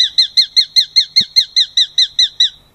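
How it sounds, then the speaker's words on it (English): A sharp-shinned hawk gives a rapid series of about thirteen high, thin chirping notes at a steady rhythm, loud and close, with a faint low thump partway through and no voices. "sharp-shinned hawks make a higher-pitched chirping sound"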